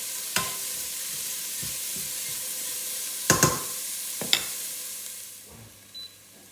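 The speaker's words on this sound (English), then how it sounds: "So I'm going to add my onion and garlic, and I'm going to cook them for kind of 2 to 3 minutes" Onion and garlic fry gently in oil in a pan for a Bolognese, giving a soft steady sizzle with a few sharp scrapes and knocks of a spoon stirring.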